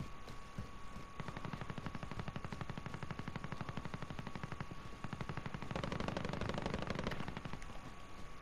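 Enemy gunfire in Call of Duty: Modern Warfare, rapid sustained automatic bursts rattling on without pause for several seconds, fairly distant and uniform, intensifying slightly toward the end.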